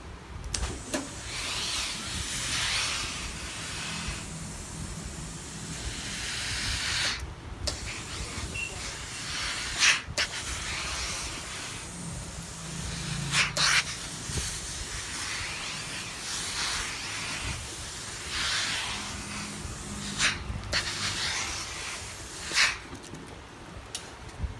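A Fit On pleat-setting spray can with a blue cap is sprayed onto a pleated school skirt in several sharp hissing bursts, with quieter handling sounds between them.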